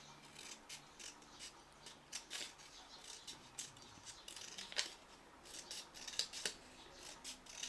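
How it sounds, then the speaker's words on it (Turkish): Scissors snip thin strips into rolled colored paper, a series of quiet, crisp cuts with soft rustling between them, close up and faint. "Yuvarladıktan sonra makas yardımıyla ince çizgiler kesiyorum."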